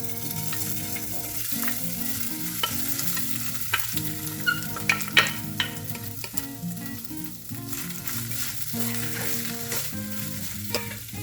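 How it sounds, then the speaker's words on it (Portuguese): Shredded chicken sizzles and fries in hot olive oil in a pan, with occasional stirring scrapes and crackles, close up and steady throughout. "aqui nessa panela eu já coloquei o azeite para esquentar e vou adicionar o frango desfiado"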